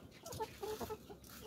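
Caged layer hens about five months old cluck in short, repeated bursts at close range, several birds overlapping in a small coop.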